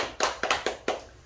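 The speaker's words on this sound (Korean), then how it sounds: "박수 한번 쳐" A handful of distinct claps from a small audience at a poetry reading, four or five sharp, close hits in an uneven rhythm, then quiet.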